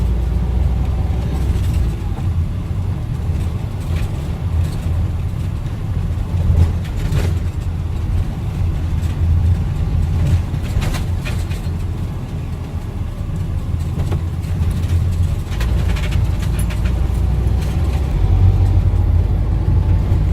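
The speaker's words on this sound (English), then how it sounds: "Now we're driving up Winnets Pass." Constant low engine rumble and road noise from inside a camper van driving up Winnats Pass, a steep road near Mam Tor, with steady droning and occasional rattles and bumps.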